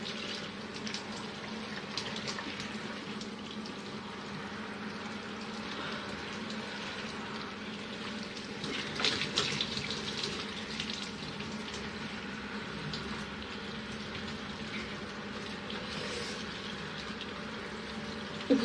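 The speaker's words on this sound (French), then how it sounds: "Quand je rince les cheveux, j'ai toujours les yeux très" Tap water runs in a steady, unbroken hiss while hair is rinsed, close and even in level from start to end, with no talking.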